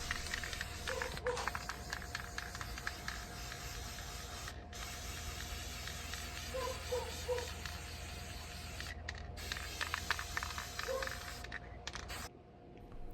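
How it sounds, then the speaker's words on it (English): A continuous hiss of a brass spray paint aerosol can spraying onto a vintage dresser, steady and close, briefly interrupted by a few short pauses and faint clicks. "I decided to use this brass spray paint to just give it a little refresh."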